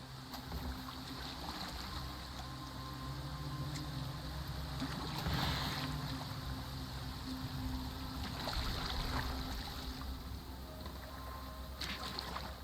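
A Viking longboat moves across the water in Assassin's Creed Valhalla, with a soft, continuous wash of water and gentle lapping, oars or waves surging faintly at intervals under a low ambient drone.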